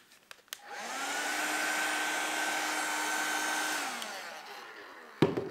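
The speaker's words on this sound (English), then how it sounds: "And this is a vacuum. It will vacuum the water off" A handheld window vacuum drawing water off glass whirs up to a steady, high-pitched motor hum that holds for about three seconds and then winds down, with a few small clicks before and after and no talking.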